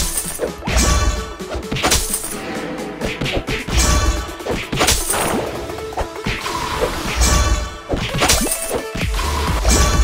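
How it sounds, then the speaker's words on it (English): Repeated bow attacks strike a medium size training dummy in Ragnarok Origin, a Rogue Stalker firing a +17 Obsidian Bow; loud, dense crashing and shattering impacts land in quick succession throughout, with no talk. "Hitting medium size dummy."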